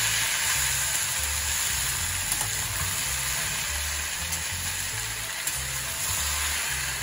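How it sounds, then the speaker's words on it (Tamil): Potato sautés in a pan for mango rice with an even, moderate sizzle held over a low, wavering rumble, continuous throughout with occasional tiny ticks, and no speech. "உருளை வதக்கணும்"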